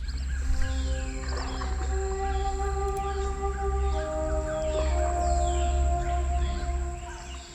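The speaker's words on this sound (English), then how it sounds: "We've got birds and frogs. Pretty normal swamp sounds." Game swamp ambience from Swamp of Souls: a dense, continuous layer of sustained bird calls and frog croaks over a low rumble, steady and fairly loud throughout.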